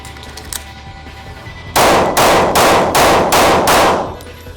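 Five loud pistol shots, fired with a firm two-handed grip, crack out in a quick, evenly spaced series, each followed by a brief ringing tail.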